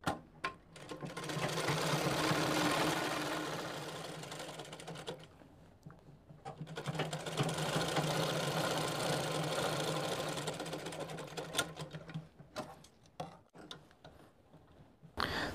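A sewing machine topstitches along the edge of the crotch seam on palazzo pants in two long, even bursts of rapid mechanical chatter. It slows and pauses in between, then ends in short stop-start runs, close up with no voices.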